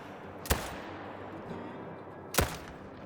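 Two sharp hunting-rifle gunshots in theHunter: Call of the Wild, about two seconds apart, each a loud crack with a short decaying tail over a quiet outdoor ambience.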